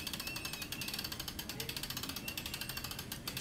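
An off-the-shelf hand winch is cranked to raise a swing-away TV, giving a fast, steady ratcheting clatter of regular clicks throughout, fairly quiet and close.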